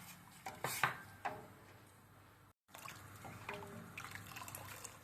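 Cornflour slurry is poured into tomato soup in a pot, a faint liquid trickle and drip with a few light clinks of utensils against the pan, quiet throughout with a brief gap midway.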